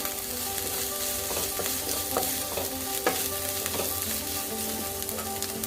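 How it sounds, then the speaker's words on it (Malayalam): Chopped green chilies and capsicum fry in a pan for Maggi noodles, giving a steady close sizzle with a few scraping clicks as a spoon stirs them. "പച്ചമുളകാണ് ഇത് അരിഞ്ഞു വെച്ചിരിക്കുന്നത് അതിട്ട് കൊടുക്കുകയാണ് ക്യാപ്സിക്കും ഇട്ട് കൊടുക്കുകയാണ്"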